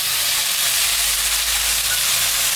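Cauliflower and potato curry fries in a pan with ginger, cumin and coriander, making a loud, unbroken close-up sizzle with no talking.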